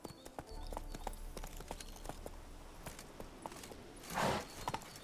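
Roach, Geralt's horse in The Witcher 3 video game, clip-clops at a steady walking pace with close, clear hoof strikes, followed by a brief louder rustling burst near the end.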